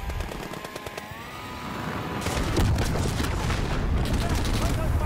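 A grenade goes off in Call of Duty: Modern Warfare amid gunfire, with rapid shots first and then a heavy, rumbling blast. Dense, loud gunfire chatter follows for the rest of the clip.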